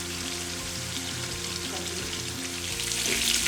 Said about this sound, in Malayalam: ഫിഷ് ഫ്രൈ ഒരു സൈഡ് കുക്കായി വന്നിട്ടുണ്ട്.